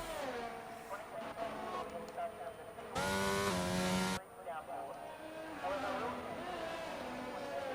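A touring car crosses the line at an Australian race, its engine note surging loud and close for about a second before fading, with commentary running throughout.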